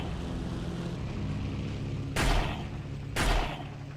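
Two heavy rifle shots from a prone position in Battlefield Vietnam, about a second apart, each a sharp broadband crack with a low boom, rising over a steady hum of ambient battlefield noise.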